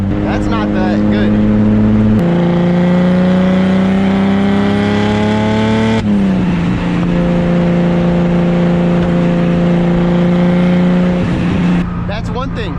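A turbocharged M50-engined BMW E30 with its muffler deleted drones steadily and loudly, heard from inside the car. The tone is continuous and rich, and the pitch shifts at a couple of points as the engine load changes.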